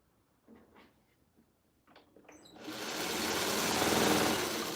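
A sewing machine stitching quilt fabric pieces together: a few light handling knocks and clicks, then the motor starts and runs in a loud, steady rapid whirr that fills the rest of the clip, without talk.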